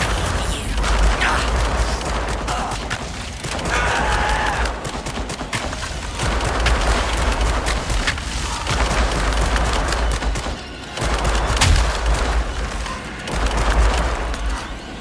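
Dense, sustained gunfire from a gun in the VR horror game The Dark Pictures: Switchback, loud and close with rapid overlapping shots and booming impacts filling the whole stretch.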